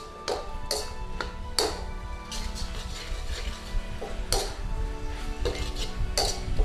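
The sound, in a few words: stirring beef in a pan for mushroom stir fry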